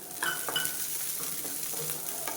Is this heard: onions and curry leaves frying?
yes